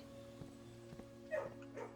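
A puppy in the video game Blue Prince gives a few short, faint yips, spaced about half a second apart, sitting low under steady game music.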